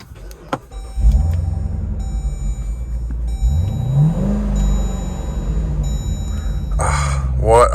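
A 2023 Dodge Durango Hellcat with its 710 hp engine cranks and fires up with a loud burst, then rumbles and revs in rising and falling sweeps close by, with a voice briefly heard.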